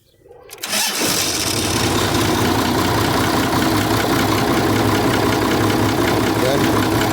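An engine on a machine with a freshly repaired hydrostatic valve cranks and catches, then settles into a loud, steady running rumble that continues to the end.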